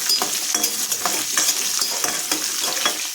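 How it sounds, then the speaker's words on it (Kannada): Garlic and dry red chillies fry in hot oil while a spoon stirs them, making a close, busy sizzle broken by rapid scraping and clinking strokes that repeat several times a second. "ಒಣಮೆಣಸಿನ್ಕಾಯನ್ನು ಸಹ ಸೇರಿಸಿ ಇದನ್ನು ಸ್ವಲ್ಪ ಫ್ರೈ ಮಾಡ್ತಾ ಇದ್ದೀನಿ"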